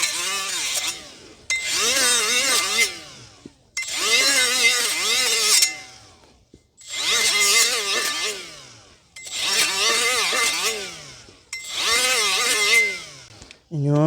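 A die grinder scours the inside of a rear brake drum on a 2017 Toyota Corolla 1.8. Six close, loud bursts of high whining grinding pass back and forth, the pitch wavering under load, with short pauses between them.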